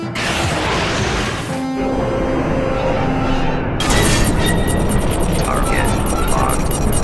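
Weapons fire on command amid loud explosions, a dense continuous roar of blasts and whooshing debris that swells and sharpens about halfway through, with speech mixed in.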